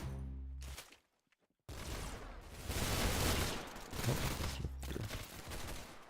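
Rapid machine gun fire in a video game, loud bursts with a brief silent gap, then sustained dense firing to the end.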